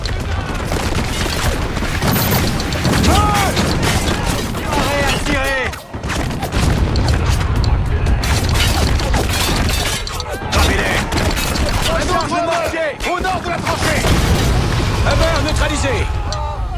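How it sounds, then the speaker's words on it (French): Wall demolished by explosions during combat in the game Spec Ops, with repeated crashing blasts, crumbling debris and gunfire under loud continuous French voice lines and shouting. "Un mur détruit!"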